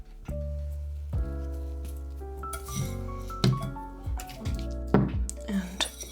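Hands mix a chunky, airy houseplant potting mix, giving soft scattered crunches, rustles and light clinks at close range, irregular and quiet, with a voice talking over parts of it.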